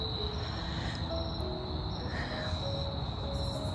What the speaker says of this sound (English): Well, even the crickets have started.